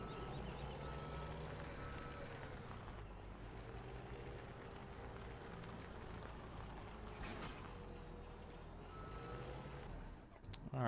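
A truck reversing in Farming Simulator 17, its backup beeper repeating steadily over a constant low engine drone, moderately loud and continuous, with no speech.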